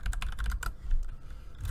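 Rapid clicking of keys on a computer keyboard while an email address, username and password are entered during a WordPress setup, with close, irregular keystrokes in quick bursts that thin out toward the end.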